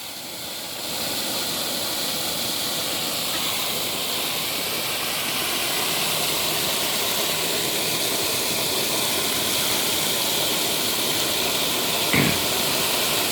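Egg and soap mixture whisked into froth for soil treatment, a steady broadband hissing, sloshing wash that runs continuously and fairly loud throughout, with one brief sharp knock near the end.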